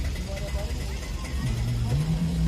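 A Premier Padmini car engine rumbles low and steady nearby, rising slightly in pitch toward the end, with people talking over it.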